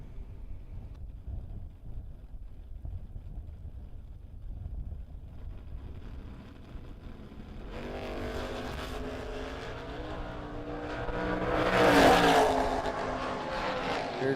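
Drag race cars, a 1996 Beretta and a 1967 Camaro, start as a low distant rumble, then swell into a louder, rising engine roar that peaks sharply near the end, with wind noise throughout.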